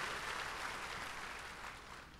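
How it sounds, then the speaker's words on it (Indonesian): Church congregation applauding at a Sunday service led by Ps. Victor Abraham, a steady wash of clapping from many hands held at even loudness, then easing slightly toward the end. "Tepuk tangan dulu yang hebat buat Tuhan Yesus."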